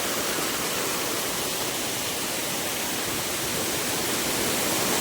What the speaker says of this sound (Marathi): पाणी बघा कसलं खळखळ येत आहे